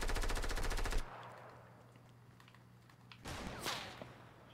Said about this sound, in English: Someone's trying to snipe at me.